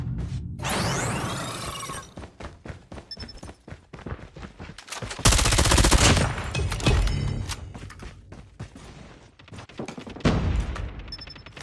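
Gunfire rattles in Call of Duty Mobile during a competitive match, with rapid bursts, single shots and sharp impacts. A dense barrage follows mid-clip, then scattered shots continue, all loud and close.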